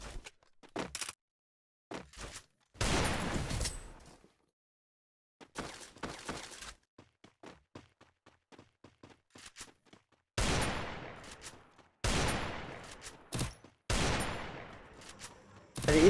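Gunfire in the mobile battle game Free Fire: sharp bursts of automatic fire alternate with single shots and rapid clicking taps, separated by short silences, loud and near with no talking.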